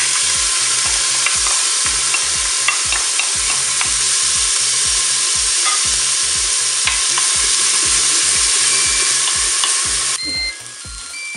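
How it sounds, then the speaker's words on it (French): Onions sizzling loudly in hot oil in a Cookeo multicooker for hachis parmentier, with a strong steady fry and regular rhythmic stirring scrapes, the sizzle easing off near the end. "je vais quand même commencer à mettre mes oignons parce que l'huile est chaude"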